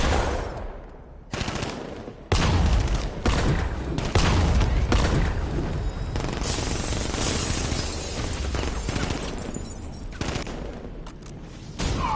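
Heavy gunfire in Batman: Arkham Knight: dense, sustained automatic bursts with brief gaps and some shattering impacts, loud and close, going on for several seconds.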